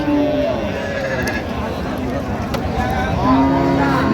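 A cow moos in long, low drawn-out calls close by, with people talking in the background at a cattle market in Raniganj.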